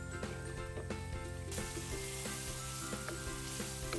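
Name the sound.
cauliflower stalks frying with spices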